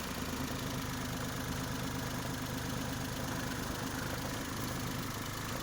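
A 2011 Maruti Alto K10 VXI petrol car engine idles steadily at close range, giving a continuous even hum with a low throb and no talking over it.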